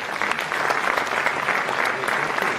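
Concert audience applauding a composer of contemporary Serbian spiritual music, a thick, continuous patter of many hands clapping throughout, with faint crowd murmur mixed in.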